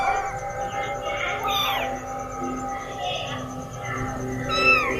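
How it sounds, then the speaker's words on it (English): A mother cat meows repeatedly near newborn kittens, with a soft rising and falling cry over faint squeaks and background murmur. "they seem to have heard the mother cat's voice near"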